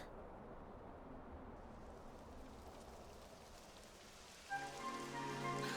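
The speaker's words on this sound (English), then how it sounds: "It would have to go and start raining, wouldn't it?" Steady rain hisses across the whole stretch in Dragon Quest 11 S, a broad wash of falling drops on surfaces, with a brighter layered musical swell rising over it near the end.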